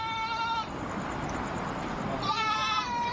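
Two goats from a herd of about ten seized goats bleat loudly, one at the start and one near the end, with a stretch of noisy rustling between them.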